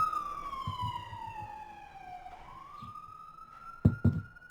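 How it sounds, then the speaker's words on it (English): A single wailing siren glides down and then rises again, fairly faint and distant, with a few brief knocks and thumps nearby. "I'm hearing sirens as well."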